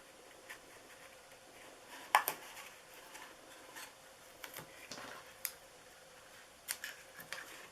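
Scissors snipping paper pieces for a handmade fall treat box, a series of sharp close snips scattered irregularly over a quiet background.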